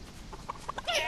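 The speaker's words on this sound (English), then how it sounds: "I'm just playing the match to grab a chicken." A chicken in the Fortnite video game clucks in a short run of close, bright squawks and clucks over a steady game background hum.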